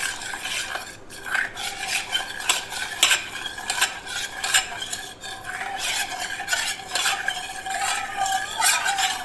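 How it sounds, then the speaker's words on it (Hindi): Spoon stirring a cornflour and water mixture for falooda sev in a bowl, with quick repeated scraping and clinking strokes, close and continuous throughout, and no voices. "इसको पहले अच्छी तरह मिक्स कर लेंगे।"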